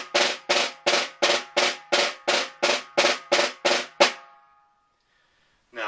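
A snare buzz roll played with one hand in eighth-note triplets, about a dozen evenly spaced buzzy strokes sounding alone and close, each with a short sizzling decay, ending in a brief ring-out and silence.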